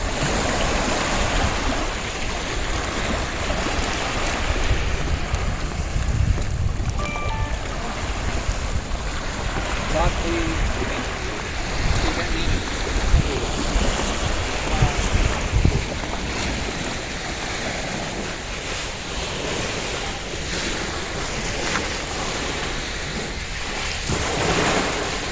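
Waves wash onto a beach in Thailand, with continuous surf and wind rumble at a steady level, plus a few faint brief background sounds and no speech.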